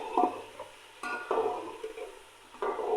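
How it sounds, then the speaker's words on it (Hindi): Chicken pieces fry with onions in hot oil while being stirred in a pan for pilau biryani, with a steady close sizzle broken by several scraping stirring strokes and no talking. "ये देखिए मैं अच्छे तरीके से इसी प्याज में फ्राई कर रही हूँ।"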